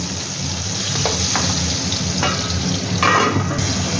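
Potatoes seasoned with turmeric and salt fry in oil in a kadai, giving a steady, close sizzle with a few soft clinks from stirring and a brief brighter burst near the end, no talking.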